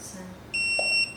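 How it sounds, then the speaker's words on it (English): A smart video doorbell gives one long electronic beep during a memory reset, a steady high-pitched tone lasting about half a second, clear and close against a quiet background. "Press set button for 3 seconds and release until long beep heard."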